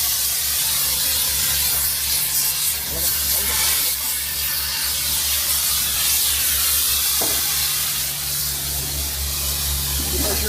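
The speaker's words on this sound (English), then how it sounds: "is gonna attempt to torch off all the bolts to the frame" A cutting torch roars with steady hissing as it burns bolts off a crashed truck's frame, loud and continuous with a low engine-like drone beneath.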